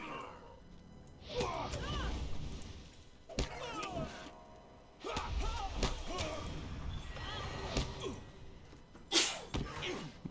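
A sneeze during a gaming session, a short sharp burst standing out near the end against ongoing talk and soft background game sound.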